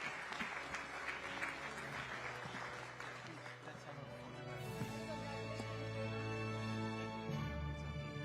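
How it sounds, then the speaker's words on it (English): Audience applause at the CNN News18 Indian of the Year 2025 awards ceremony, a quiet, steady wash of clapping that runs under music as it swells in partway through. "So a big applause for him"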